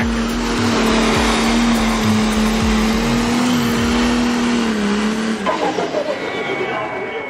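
Loud, sustained engine roar from pulling tractors and modified two-wheel-drive trucks at a tractor pull, holding a steady droning pitch before cutting off abruptly, with a voice talking over it throughout.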